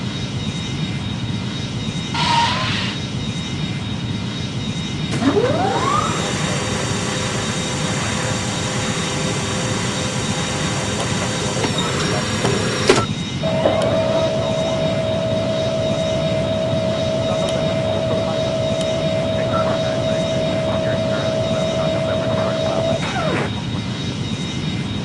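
A Boeing 767 in the Airline Commander game takes off with a steady, loud jet engine roar. Tones rise and fall as the engines spool up, then a sustained whine carries through to the end.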